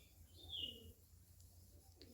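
A pigeon coos softly twice, low and distant, over a faint quiet background.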